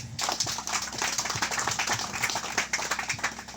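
A church congregation claps steadily and densely throughout, many hands blending into a continuous rhythmic applause that fills the space, with no speech standing out.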